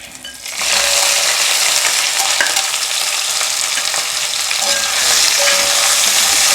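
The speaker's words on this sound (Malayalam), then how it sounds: "ഇതിലേക്ക് നമ്മുടെ കോവയ്ക്ക നുറുക്കി വെച്ചത് ഇടണം." Sliced ivy gourd (kovakka) hitting hot oil with mustard seeds, chillies and curry leaves for a Kerala kichadi, giving a loud, steady sizzle and frying hiss that lasts throughout, with faint stirring clinks and no talk.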